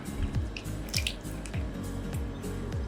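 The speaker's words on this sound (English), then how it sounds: "So we're gonna pour in our fresh okra." Fresh okra is poured into a simmering Ghanaian tilapia soup, giving a series of wet plops and drips at regular intervals over a quiet background, close by, with no talking.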